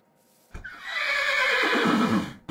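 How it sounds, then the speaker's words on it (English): A horse in Minecraft with the Hexxit modpack lets out a single long, loud whinny that rises and then wavers downward over about two seconds, with no other sound around it. "You do not sound like a healthy horse"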